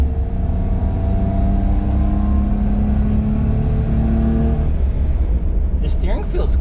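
A Daihatsu Midget 2 microtruck pulls onto a freeway with its small engine droning steadily from inside the cab, the hum shifting as it gathers speed, and a voice talking over it near the end.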